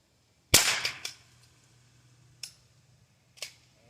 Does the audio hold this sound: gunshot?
yes